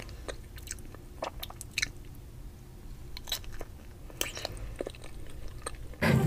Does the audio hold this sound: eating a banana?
yes